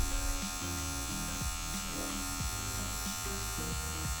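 An electric hair clipper used with no guard to cut a guideline for a medium skin fade, buzzing steadily and close up with slight shifts in pitch as it moves through the hair.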